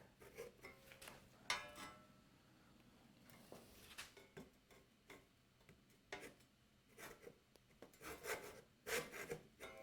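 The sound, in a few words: hand saw cutting a sliding dovetail kerf in wood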